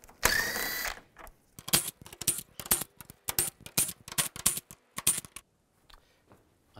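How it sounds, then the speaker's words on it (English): A ratchet with a 10 mm socket backs out bumper bolts on a 2015-2020 Cadillac Escalade, giving a burst of rapid clicking followed by short, uneven bursts of ratcheting clicks close to the microphone, with no speech. "Now we're going to take these 10 millimeter bolts out."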